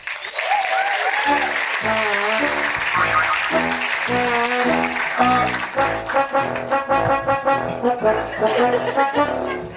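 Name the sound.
audience applause for Professor Peter Bragg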